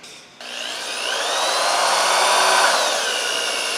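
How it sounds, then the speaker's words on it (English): A power drill with a 1/2-inch bit bores a hole through a PVC plug, starting after a brief pause and then running as a steady, loud whine that holds for several seconds, with no voices. "you don't want to go too fast because this PVC could melt if you really drill fast"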